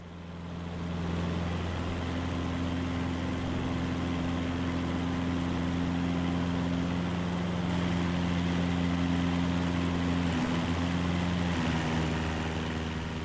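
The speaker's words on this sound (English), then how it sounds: "See what I mean about the engines being really loud" Aircraft engines in Microsoft Flight Simulator 2024 drone loudly and steadily on an Alaska cargo flight, a constant deep hum with stable low tones running the whole way through, no talk over it.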